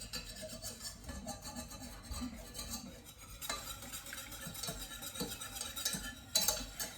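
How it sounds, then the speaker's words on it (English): A whisk stirs bechamel sauce in a pan, a continuous scraping swish with light metallic clinks against the pan, steady and close with a few sharper knocks near the end. "So I'm whisking it in, and now, like, it did look lumpy"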